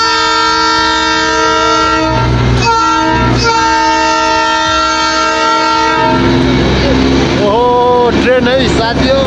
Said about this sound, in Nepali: ट्रेन है साथीहरु